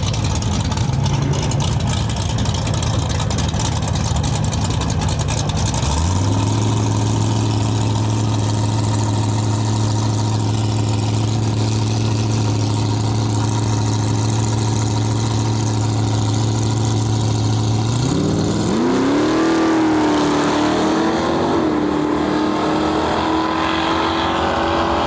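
Drag racing cars, an AMC Javelin and a Studebaker, idling loudly at the starting line with a steady rumbling drone, revs rising near the end, heard under a track announcer's voice.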